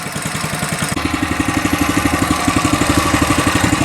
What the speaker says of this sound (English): 2 or 3 pulls and fired right up.